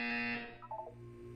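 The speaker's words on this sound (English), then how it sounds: "You will hear a buzzer." A buzzer sounds in the video game Portal 2, a harsh electronic tone that holds briefly and then drops into a short wavering tail, all over in about a second.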